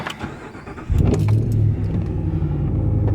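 A RAM 1500 pickup's 5.7 HEMI V8 with the muffler deleted cranks and fires up about a second in, settling into a loud, deep, rumbling idle heard close by from inside the cab.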